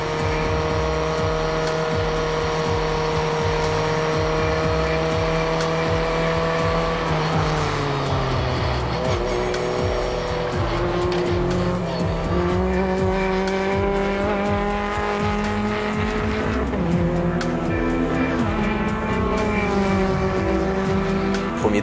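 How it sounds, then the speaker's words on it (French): A light 140 hp race car on track on cold tyres accelerates hard, its engine note climbing steeply in pitch, dropping at a gear change, then rising again, loud and close throughout with no speech. "la voiture est tellement légère, on s'aperçoit que ça accélère quand même pas mal"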